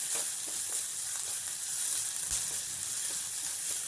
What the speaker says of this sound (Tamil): ரெண்டும் நல்லா வதங்கிட்டு இஞ்சியோட வாசனை மாறட்டும்.